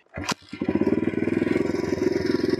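After a carburettor adjustment, a motorcycle engine cranks and catches, then settles into a close, loud, steady idle with fast, even pulsing beats.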